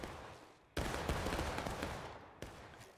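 A battery fires in a European Grand Campaign video game battle, with two loud, sudden volleys a couple of seconds apart that each fade into a long rumbling roar.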